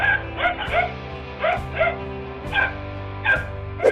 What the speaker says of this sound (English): These dogs are putting their lives on the line in order to prevent a cobra from getting into the house